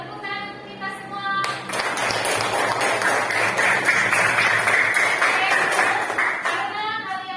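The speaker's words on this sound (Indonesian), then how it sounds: "tepuk tangan untuk kita semua" A classroom of students claps together in a burst of applause lasting several seconds, loud and close, with a voice briefly heard before and after.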